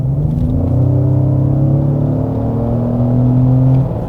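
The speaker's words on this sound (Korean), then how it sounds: "이 상태에서 가속 페달을 끝까지 꾹." A Ford Explorer ST-Line engine pulls hard under full throttle from about 2000 rpm, a loud, steady, rising rumble heard from inside the car, with no talking.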